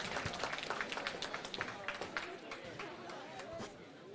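A boxing crowd claps in quick, uneven bursts that fade into a murmur of chatter, with people talking close by throughout.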